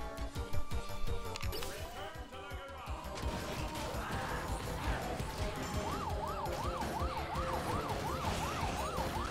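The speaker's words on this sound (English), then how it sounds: "Sirens on means emergency." Emergency vehicle sirens wail in Dead Rising 3, a rising and falling electronic siren growing clearer over a busy rumble of engines, crashes and game noise, with no talk over it.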